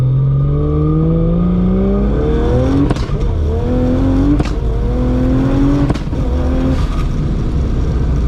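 A Barra-engined GT350 on a pull, the engine note climbing steadily then snapping up through quick sequential no-lift gear changes, each shift a sharp crack before the revs rise again, loud and close throughout.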